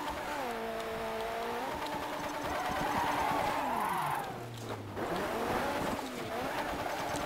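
A rally car in Dirt 3 drifts through a gymkhana course, its engine revving up and down in rising and falling whines, with tire squeal and a brief dip before the engine picks up again, loud and close.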